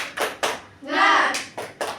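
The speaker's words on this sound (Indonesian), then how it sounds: "Satu, dua, tiga, tepuk semangat." A class of children at school doing a rhythmic cheer clap, with sharp clap bursts in a quick pattern around a short shouted group chant.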